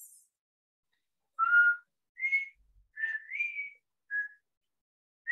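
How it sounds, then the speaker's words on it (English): A person whistles a short tune of separate, clear notes in a quiet room, with brief pauses between phrases. "Are you the one whistling?"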